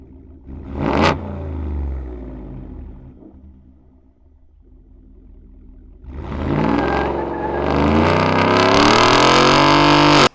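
A 2021-or-newer Ford F-150 5-liter fitted with a Corsa catback exhaust set to extreme sound, giving a loud, close cold-start bark that settles into a rumbling idle, then a long throaty rising rev, with no voices.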